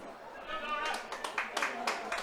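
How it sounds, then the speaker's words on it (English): Spectators at a Donegal v Mayo Gaelic football league match give a round of applause, scattered claps rising gradually under a commentator's talk. "Laura gets a round of applause, which is well deserved."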